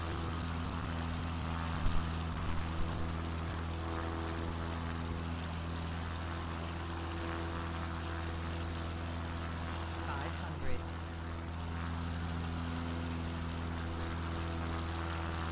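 Steady droning of a light propeller aircraft engine in flight over snowy Scottish valleys, continuous and close with an even hum throughout, slowing with flaps down, with faint voices occasionally audible beneath.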